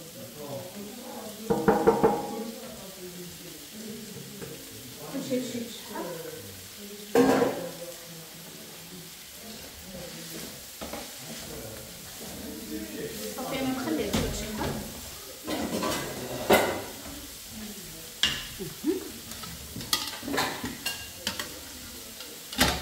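Red and yellow bell peppers frying in a pan, sizzling softly beneath steady talk, with scattered stirring scrapes and sharp knocks of a utensil against the pan.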